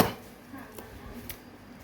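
A knife chops ingredients for a traditional Thai sour fermented fish dish wrapped in banana leaf. There are a couple of faint, crisp strikes a half-second apart, quiet and close, with light background noise.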